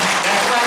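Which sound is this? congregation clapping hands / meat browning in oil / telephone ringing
congregation clapping hands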